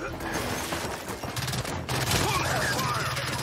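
Rapid bursts of weapon fire aimed at a Popper in the game Gears 5, a dense, fairly loud fusillade that pauses briefly and then resumes, with voices speaking over the shooting.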